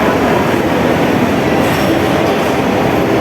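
A toy train runs through a Christmas decoration display at the Pacific Place mall in Central, Hong Kong, giving a loud, steady, rumbling clatter with no pauses.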